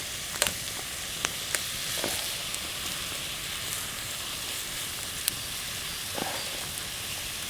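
Food frying and being stirred in a camp pan outdoors during a hammock camping trip, a steady close sizzle with a few sharp clicks of a utensil against the pan, no talking.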